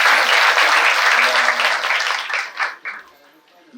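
Applause from a crowd at a kirtan during an Akhand Harinam Saptah gathering, steady dense clapping that carries for about two and a half seconds and then thins into a few scattered claps.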